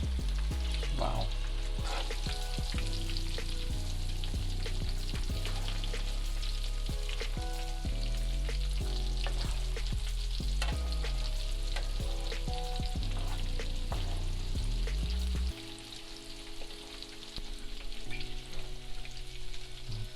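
Shrimp coated and frying in hot oil, a dense continuous sizzle with stirring clatter layered on top, then a quieter, thinner crackle near the end.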